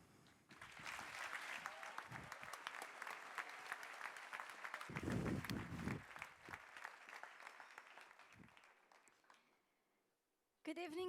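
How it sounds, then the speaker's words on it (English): A crowd at the worldwide debut show for the Uniti U17 electric car applauds a presenter, clapping rising quickly, holding for several seconds with some cheers, then tapering to silence before a voice begins. "So please give a big applause for Bianca."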